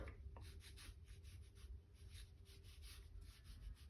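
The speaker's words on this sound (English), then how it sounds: "I'll just kind of do a very loose sketch" Loose, scribbly pencil strokes on paper for a character sketch, a quiet continuous scratching in repeated back-and-forth bursts over a low background hum.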